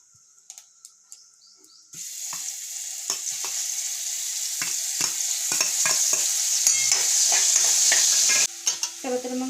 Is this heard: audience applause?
no